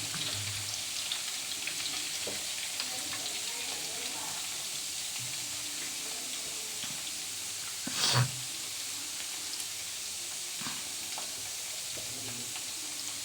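Chicken pakodi deep fries in hot oil with a continuous crackling sizzle, and a brief louder burst of spattering and bubbling partway through.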